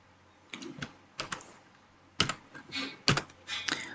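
Fingers type on a computer keyboard in short uneven bursts of crisp, close key clicks, separated by brief pauses.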